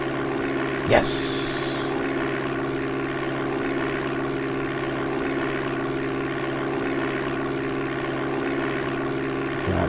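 A propeller aircraft engine drones steadily at full power in Amiga Flight Simulator II, a constant loud hum throughout with a brief sharp click near the start and a short spoken word over it.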